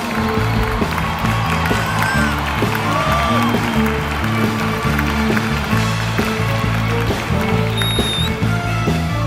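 A concert audience in a bullring applauds a live music act, a dense, sustained wash of clapping mixed with crowd noise and a loud bass-heavy musical backing throughout.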